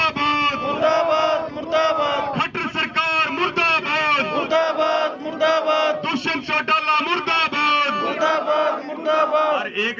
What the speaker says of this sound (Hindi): तो मेरे साथ नारे लगाएंगे, मोदी सरकार मुर्दाबाद